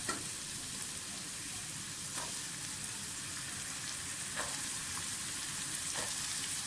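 Potatoes fry in a pan for a pea and potato pulao, making a steady, close sizzle with a few soft stirring taps throughout and no talking.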